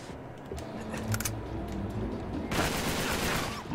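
Sniper pistol gunfire in the PS4 game Uncharted 3: Drake's Deception, a few short, crisp shots early on over constant game ambience, followed by a louder burst of noisy combat.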